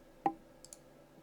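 A computer mouse gives a single crisp click, followed by a couple of fainter, quicker clicks in a quiet room.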